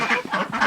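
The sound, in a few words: French Toulouse geese honking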